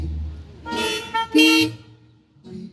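Pontiac Fiero car horns honk at a Fiero owners' run in Wisconsin Dells: two loud, close, blaring bursts of layered horns, then a fainter short toot after a pause.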